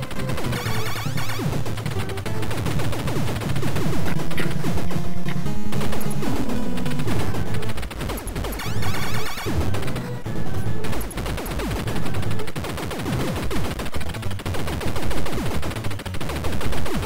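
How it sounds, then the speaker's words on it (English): Rapid, continuous spray gun fire in Super C blasts away loudly over dense, layered game music and explosions. "I'm gonna get the spray gun again."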